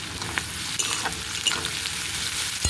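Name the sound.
chopped onion frying with garlic, salt and turmeric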